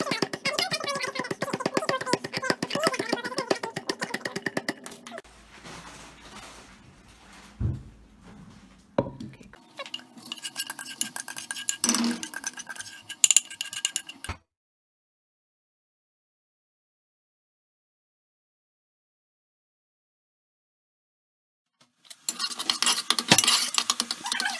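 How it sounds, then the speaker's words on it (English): Garlic browning in vegetable oil in a pot, stirred with a spoon that scrapes and clinks against the metal amid a steady sizzle; the sound cuts to near silence midway before the frying noise returns. "we're browning the garlic, and you've just got to stir it regularly because it will stick"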